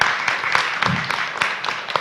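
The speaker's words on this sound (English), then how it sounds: "A big round of applause for Ian." Audience at an economic forum session in Indonesia applauding the moderator, a dense burst of clapping from a room full of people, close and fairly loud throughout.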